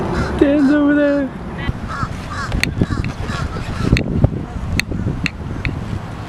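A rescued bird gives honking, goose-like calls outdoors, a few drawn-out cries near the start followed by scattered shorter calls over background noise and movement.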